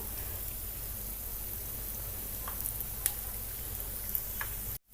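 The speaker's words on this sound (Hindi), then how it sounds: "तो एक तरफ से हमारे ये मूंग दाल बड़े सिक चुके हैं।" Moong dal vadas frying in hot oil give a steady, even sizzle with soft crackling throughout, close and fairly loud, with a few brief sharper pops and no talking.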